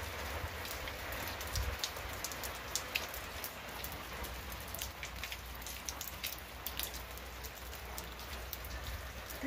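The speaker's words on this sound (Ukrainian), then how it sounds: "Сьогодні у нас дощ на дворі." Steady spring rain falls outdoors under an overcast sky in a central Ukrainian village, a dense, continuous patter of drops with no voices.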